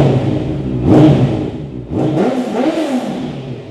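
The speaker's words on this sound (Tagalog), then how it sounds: "Soundcheck na rin natin yung Yoshimura full system." A motorcycle fitted with a Yoshimura full exhaust system revs loudly in two surges, with a rising and falling engine note close by and no talk.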